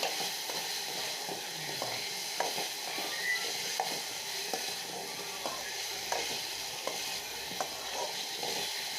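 Steady sizzling of drumsticks frying in a pan, with occasional scraping clicks of a utensil stirring, continuous and close, no voices.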